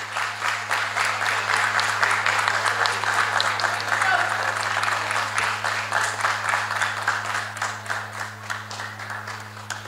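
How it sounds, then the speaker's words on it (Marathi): Sustained applause from an audience at a Mumbai Marathi journalists' association award ceremony, dense steady clapping across the whole stretch over a low electrical hum, tapering slightly at the end. "अंशुमनसाठी जोरदार टाळ्या झाल्या पाहिजेत."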